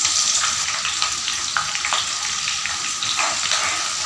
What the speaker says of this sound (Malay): Now I'll fry the sliced onions.